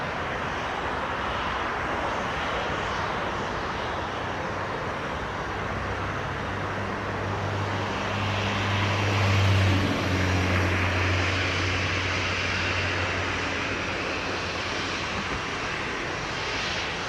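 Bahamasair airliner landing at Montego Bay airport in Jamaica, a steady broadband engine roar with a low droning hum that swells slightly near the middle, heard from outdoors at moderate distance.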